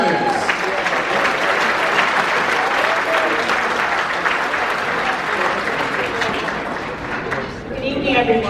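An audience at a banquet honoring Georgia figures breaks into sustained, dense applause, steady and full for several seconds before briefly thinning, then swelling again as a voice begins speaking.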